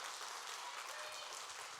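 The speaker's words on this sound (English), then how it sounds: "all of you deserve a grand applause for today" Audience at a cosplay show claps for the performers, a continuous, fairly soft and distant patter of many hands sustained without a break.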